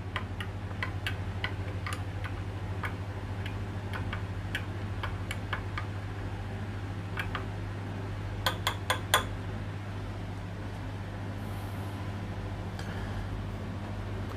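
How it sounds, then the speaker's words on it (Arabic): A spoon clinks and ticks against the side of a cup or pot while stirring brewed coffee, in a steady series of light, close taps over a constant low hum, with a quick cluster of sharper clinks near the end. "هنبتدي بقى بعد كده نقلب القهوة بتاعتنا"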